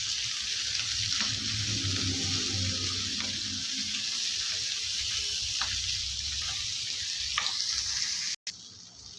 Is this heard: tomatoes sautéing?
yes